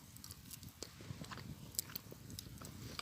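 Someone chewing a piece of cooked, ungrilled meat at a campsite: soft, close wet chewing and biting with faint crunches, quiet and low-level.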